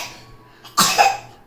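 A child gives one close, sharp cough that breaks into a short rasping second burst, after a faint breath in a quiet room.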